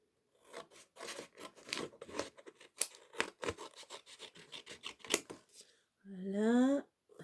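Scissors cutting through material for a homemade pencil and tool storage box, a run of close crisp snips and rustles with some paper handling, ending in a brief sliding squeak.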